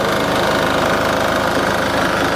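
A Sraja power weeder with a back rotary attachment tills tight black soil in a field, its engine roaring loud and close with a steady rapid knocking pulse and no let-up.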